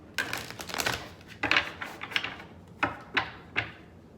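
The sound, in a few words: shuffling and splitting a deck of tarot cards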